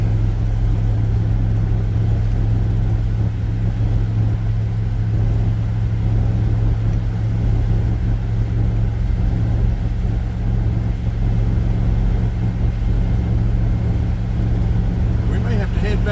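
A car engine drones steadily and loudly on a Florida coastal highway, the US A1A, as it labours in second gear before a hard shift, with a constant low hum throughout.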